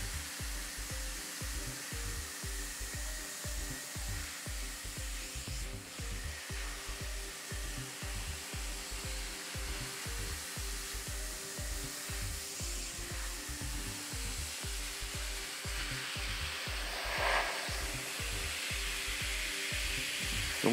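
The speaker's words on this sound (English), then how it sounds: "He uses the pressure washer, he goes quite slow." Pressure washer with a narrow nozzle spraying a car that has sat for months, a continuous hissing spray over a low pulsing pump rhythm, steady and fairly close with no talking.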